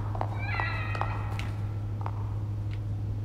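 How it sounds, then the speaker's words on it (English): A cat meows in The Evil Within DLC, The Assignment: a few short, close meows near the start, then quieter game ambience and a steady low hum. "Kitty!"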